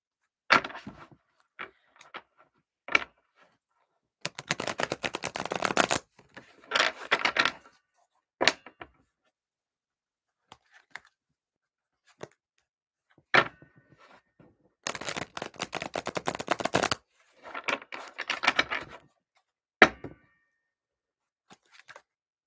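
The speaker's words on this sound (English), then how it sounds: "I just kind of want to get card shuffled here" Tarot cards are shuffled by hand in several quick riffling bursts separated by single taps and silent pauses, crisp and close with no talk.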